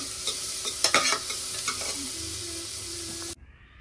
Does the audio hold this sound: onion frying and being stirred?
yes